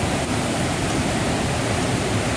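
Curug Cikaso waterfall in Indonesia roars as a dense, constant wash of falling water, loud and unbroken from start to finish with no voices.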